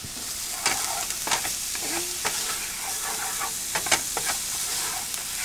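Green peppers, onions and garlic sizzle in a hot pan, a steady loud hiss under intermittent scraping stir strokes and clicks of a utensil, close and continuous.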